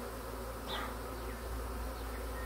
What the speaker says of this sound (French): s'il y a 200 abeilles en vol autour